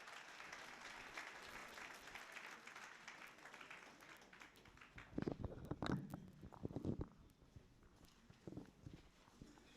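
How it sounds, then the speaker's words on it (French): A crowd at a retirement ceremony in Guédiawaye claps steadily in dense, continuous applause, with louder thumping bursts and shuffling footsteps near the microphone partway through, and no talking. "salve d'applaudissements pour Yaya Koli."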